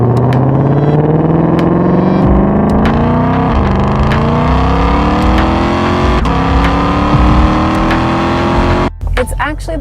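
A 2020 Ford Mustang Shelby GT500 with a 760-horsepower 5.2-litre V8 roars loudly and close, its pitch climbing steadily through hard acceleration before cutting off abruptly near the end.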